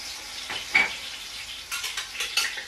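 Scallions and ginger hit hot oil already used to fry spices, bursting into a close, bright sizzle with crackling surges and a stirring scrape, no voices.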